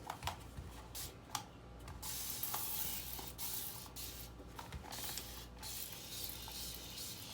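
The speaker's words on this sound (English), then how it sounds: "we're going to give them a light spray" Quiet hissing spritzes from a spray bottle of homemade all-purpose cleaner onto refrigerator shelves, a series of short bursts over soft background noise and faint clicks.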